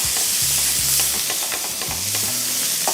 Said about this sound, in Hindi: इसकी फ्राइंग से ये होगा कि जो बोलोनिया का जो स्लाइसेस हैं ये फ्राई होंगे